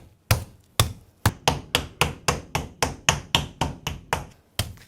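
Turkey meat pounded with a hammer-like mallet through plastic wrap, a steady series of about a dozen sharp, close thuds at a brisk, slightly uneven rhythm, with no speech.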